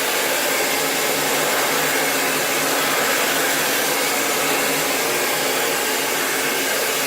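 A blow dryer runs on thick natural hair with a loud, steady, unbroken rush of air that holds constant from start to end, with no talking.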